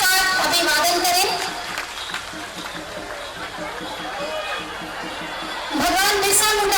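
A crowd gives sustained applause to welcome Chief Minister Hemant Soren at a public event in Godda district. The steady, moderately loud clapping fills the middle, and a voice speaks over it at the start and again at the end.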